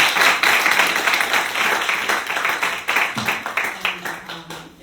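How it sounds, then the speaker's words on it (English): Audience applause for two speakers at the end of an artist talk, loud and close, dense clapping that thins toward the end into scattered individual claps, with a voice briefly audible. "let's give them a round of applause"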